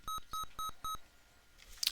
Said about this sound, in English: And my phone just pinged